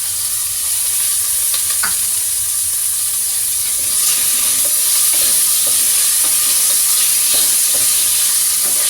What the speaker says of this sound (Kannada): ಹಸಿ ವಾಸನೆ ಹೋಗೋವರೆಗೂ ಚೆನ್ನಾಗಿ ಫ್ರೈ ಮಾಡಿ